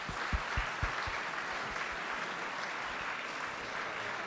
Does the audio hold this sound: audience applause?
yes